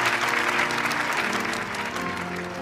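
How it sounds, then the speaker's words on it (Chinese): An audience at a wedding celebration applauding the newlyweds, a dense, steady burst of clapping that continues throughout and tapers slightly at the end. "现在我们再一次用热烈的掌声来祝贺今天的新人。"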